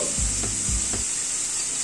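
Chopped tomato with salt and spices sizzling in a hot pan, broken by two or three scraping stirs of a spatula in the first second, then a steady sizzle alone.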